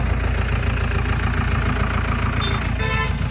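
A motorbike running low on petrol idles close by with a steady, continuous rumble and no revving throughout.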